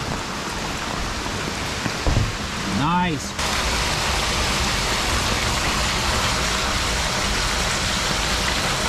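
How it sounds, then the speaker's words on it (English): Heavy rain pours down steadily and loudly on a yard with a pine tree, a continuous dense hiss throughout, briefly interrupted by a short spoken word and a sweeping whistle-like sound near the middle. "That's a lot of frickin' rain."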